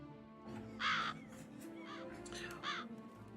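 Several crows cawing in The Witcher 3, harsh repeated caws in two bursts over a steady ambient game background, with faint talk underneath.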